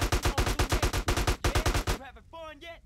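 Rapid bursts of gunfire in GTA San Andreas, about a dozen sharp evenly spaced shots over two seconds, followed by quieter game sounds and a brief tonal effect.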